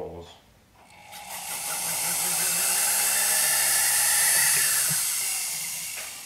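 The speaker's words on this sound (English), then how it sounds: "And so I'm just going to go around and" A small drill bores into a sterling silver box, its steady, hissing high-pitched whir rising in after a quiet second and holding for several seconds, close and fairly loud.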